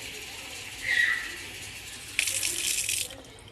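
Tap water runs into a container in a kitchen, a short splash followed by a steady brighter gush that stops after about a second.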